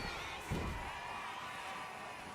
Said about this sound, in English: Oh, this crowd not real happy about it